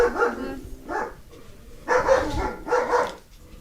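A dog barks in a yard nearby, giving four loud, evenly spaced barks in two pairs, with a brief quieter gap between them and no talking.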